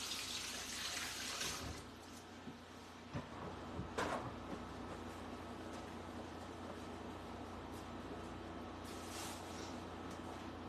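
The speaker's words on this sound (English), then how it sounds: "I'm just going to rinse my hands real quick." Hands rinsed under a running tap: a faint hiss of water flows in short bursts, starting and stopping with soft splashes, quiet and close.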